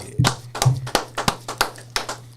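Close, sharp hand claps in an irregular rhythm, about eight distinct slaps over a couple of seconds, sounding like a few people clapping rather than a large crowd, over a low steady hum.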